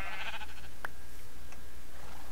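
Sheep in a video game bleat in a few short, clear calls over a steady low background hum, with no talking.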